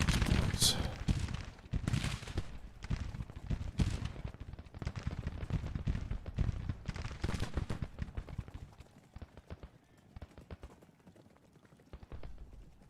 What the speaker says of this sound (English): we are engaging the 3rd South Carolina with our Smith carbines